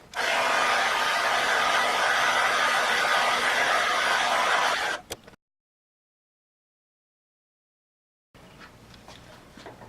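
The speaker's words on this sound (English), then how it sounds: "Let's take the first Scrub Daddy and heat it to 40 Celsius using a hairdryer" Hairdryer blowing on a Scrub Daddy sponge to heat it, a steady loud whooshing hum for about five seconds that cuts off abruptly into silence, followed by faint low background noise.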